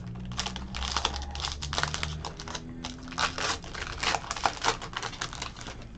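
A 2020 Panini Contenders Baseball card pack wrapper is torn open and handled up close, making a rapid run of sharp crinkles and crackles in irregular bursts.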